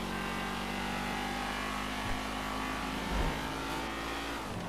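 Car driven in GTA 5 with a steady engine drone and occasional revving, some louder swells partway through, continuous road noise with no talking.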